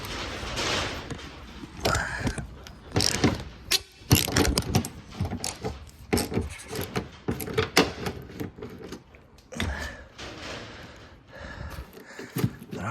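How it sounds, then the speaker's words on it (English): Ratchet wrench undoing a seatbelt bolt on a Volkswagen Type 3 Transporter, heard as bursts of rapid clicking and metallic clatter, close and fairly loud, with pauses between the turns. "I'll take that seatbelt bolt off so we can do this properly."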